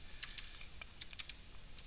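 Fingers typing on a computer keyboard in short irregular bursts, crisp close key clicks with brief pauses between strokes, no voices.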